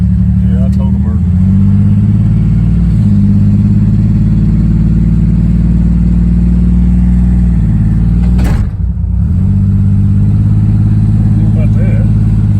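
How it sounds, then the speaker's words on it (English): A loud engine with a blown-out muffler drones heavily and continuously, low and close, with a brief dip and pickup in the rumble near the end. "Yeah, we gotta get that muffler fixed. Yeah, that thing's loud. Well, it done blew the back plumb out of it."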